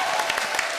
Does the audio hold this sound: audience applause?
yes